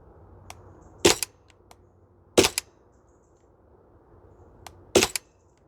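A Maruyama MP9 airsoft gun fires three sharp, snappy shots on a cold-weather range, spaced over a second apart, each a crisp crack with a brief mechanical clatter, and a quiet background between them.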